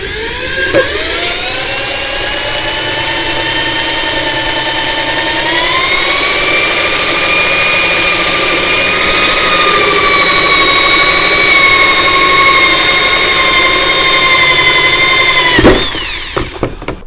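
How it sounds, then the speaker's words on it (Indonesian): An electric drill boring holes in PVC pipe, a loud high-pitched motor whine that rises in pitch and holds steady close up, then stops abruptly near the end. "Selanjutnya kita mulai lubangi, dan ini sudah ada lubang yang tadi kita buat sebelumnya, sehingga lebih mudah untuk melakukan pengeboran"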